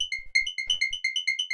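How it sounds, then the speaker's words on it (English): A single analog saw-wave synth with a light low-pass filter, high-pitched for hard techno, playing quick plucky notes in a fast repeating pattern over faint low thumps, bright and close. "this is just one saw wave here in analog with a bit of a low pass filter"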